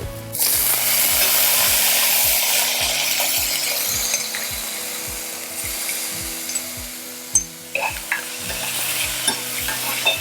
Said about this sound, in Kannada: ಈರುಳ್ಳಿ ಬೇಯ್ತಾ ಇದ್ದ ಹಾಗೇನೆ ನೆನೆಸಿರೋ ತೊಗರಿ ಬೇಳೆನ ಹಾಕೋಣ